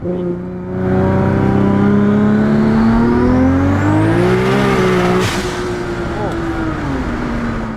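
An 1100 hp eight-speed AWD Nissan Skyline GT-R accelerates hard, its loud engine rising steadily in pitch and then dropping quickly on a fast gear shift before climbing again, heard from inside the car.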